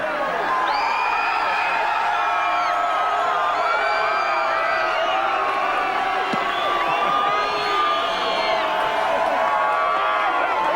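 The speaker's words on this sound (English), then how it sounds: "save your biggest applause for this man" A crowd cheers, whoops and applauds for V8 Supercar driver Todd Kelly after his first round win, a steady roar of voices and clapping held throughout, with a voice speaking over the crowd.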